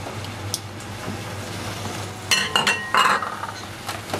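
Garlic tipped into a pan of softened, caramelizing onions and stirred, heard as a faint sizzle under a few close scrapes and clinks of a utensil against the pan, with no talking.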